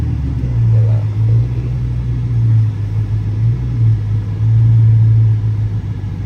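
A Dodge Challenger SRT 392 Scat Pack V8 heard from inside the car at night, giving a loud, steady, deep exhaust rumble that swells slightly as it pulls away.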